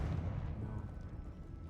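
A deep, rumbling blast from the Confringo spell in Hogwarts Legacy, a single loud boom that decays quickly.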